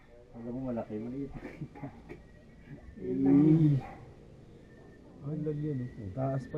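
A dog barks and yelps intermittently near a roadside during a motorbike ride, in a few short bursts with a louder stretch in the middle, with people talking nearby.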